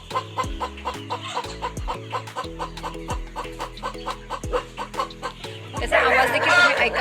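Large roosters kept under a crate at a poultry farm give repeated close clucks in a steady rhythm, with a louder, noisier burst of activity toward the end.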